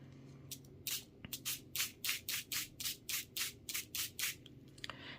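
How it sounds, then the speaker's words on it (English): A Stampin' Spritzer mists water onto an acetate sheet in about a dozen quick, evenly spaced hissing spritzes, close and soft, with no talking. "with a Stampin' Spritzer, you could also use just a regular spray bottle. You're going to add some water."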